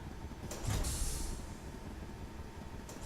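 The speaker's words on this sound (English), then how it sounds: "as you can tell, it's an elevator. And he calls it a landing elevator" In the Space Engineers game with a mod pack, a landing elevator rides along with a low, rough rumble and a brief hiss of mechanical movement. The sound stays steady at a moderate level with no voices.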